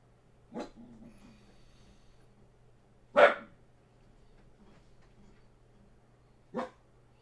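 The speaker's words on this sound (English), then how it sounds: "what are we barking at already" A dog barks three times, well spaced: one short bark, a louder sharper bark a few seconds later, then a final bark near the end, each standing alone.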